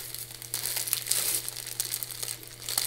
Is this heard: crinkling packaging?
yes